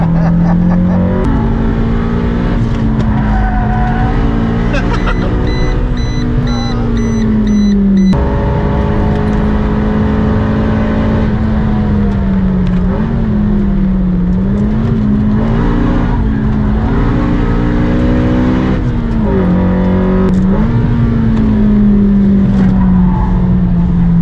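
A car drifting sideways on a track, engine droning and revving loud and close with shifting pitch, tyres squealing through long slides.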